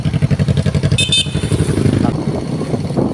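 Several motorcycles rev loudly nearby, a dense pulsing engine rumble with clattering, brief metallic rattles partway through and the engine note shifting toward the end.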